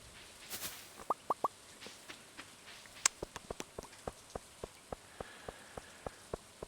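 Rain on a night in Stardew Valley patters softly in the game, with a regular run of light plopping drops and a few brighter taps over a faint hissing background.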